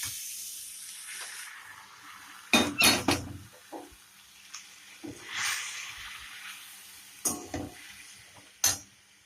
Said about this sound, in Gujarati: હવે આપણે એમાં પેલા બાફેલા જે મગ છે એ નાખી દઈશું.